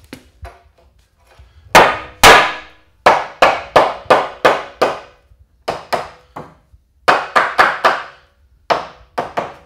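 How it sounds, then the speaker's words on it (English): A hammer drives nails into wooden studs while framing a basement wall, a series of loud, close, ringing impacts in quick bursts of three to five blows with short pauses between, with no talking. "Another method is hammer and nails."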